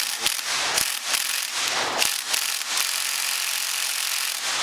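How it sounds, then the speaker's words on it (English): Mechanical whirring and rattling from a motorcycle fork being worked on during a fork seal and spring install, with a few sharp clunks and a continuous grinding buzz close up, no talking. "taking my trusty impact wrench"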